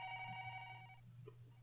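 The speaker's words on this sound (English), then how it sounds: "the phones were ringing off the hook thanks to the recent incident" Phones ring in an office scene from the visual novel Collar X Malice, where the lines are busy after a recent incident. A steady electronic ringing tone plays for about a second over a low background hum, then cuts off, leaving faint soft sounds.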